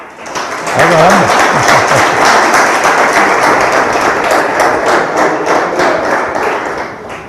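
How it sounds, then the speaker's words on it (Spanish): Audience applause at a lecture on ethics: dense, sustained clapping from a room of listeners, loud and steady for several seconds after a brief speaking voice at the start. "qué bueno que me aplauden a mí y a ustedes"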